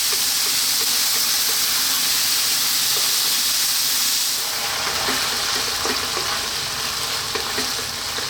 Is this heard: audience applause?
no